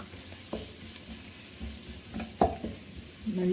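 Turmeric powder fries in a pan for crab masala. There is a steady sizzle, a spoon stirs and scrapes the metal several times, and no voices are heard.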